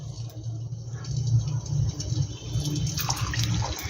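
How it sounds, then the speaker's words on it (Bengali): Pocket puri slipped one by one into hot oil, giving a steady close bubbling sizzle with a brighter crackling hiss rising toward the end. "তেলটাও কিন্তু আমার গরম হয়ে গেছে, আমি এবার এক এক করে দিয়ে দেবো।"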